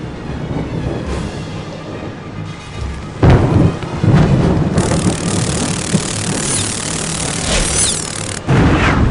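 Stormy weather in a Harry Potter and the Prisoner of Azkaban video game cutscene: steady heavy rain and wind with loud, booming thunder cracks rolling in the middle and again near the end, no voices.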